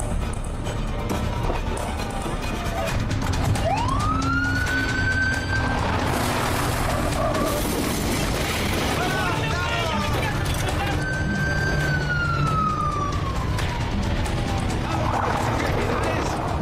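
Ambulance siren wailing in rising and falling sweeps, loud and fairly close, over a busy street scene with traffic and crashes, while several people talk over it.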